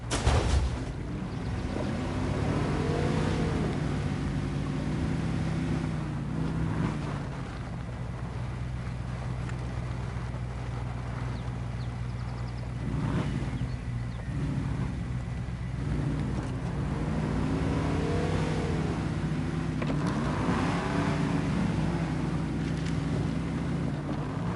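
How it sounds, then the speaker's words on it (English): Engine revving at full throttle in a video game, a loud continuous motor drone with rising and falling pitch sweeps as the revs change, sustained throughout and alone without speech. "You can just hear the thunder in that engine."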